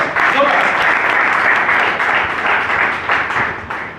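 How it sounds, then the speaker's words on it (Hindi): Audience applause for Satish Ingde, CMD of Samarth Success Life Marketing, at a company event: a dense, sustained round of clapping that stays loud throughout and thins slightly toward the end. "इनके लिए एक बार जोरदार तालियां हो"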